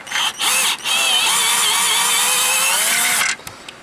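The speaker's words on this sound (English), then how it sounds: "I'm going to go ahead and take the screws out" A power drill backs screws out of an RZR's 20-inch wheel rim, its whine rising in two short bursts, then running steadily for about two and a half seconds before stopping, close and loud.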